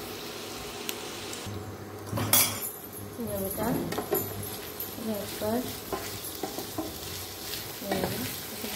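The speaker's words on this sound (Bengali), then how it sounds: "এটাকে আমি ভালো করে এরকমভাবে ভেজে নেবো আস্তে আস্তে, ফ্লেম লো করে দিয়ে।" Spring onion stalks fry slowly in a pan over a low flame for a prawn curry, giving a soft sizzle while a utensil stirs and clinks against the pan; someone says a brief word.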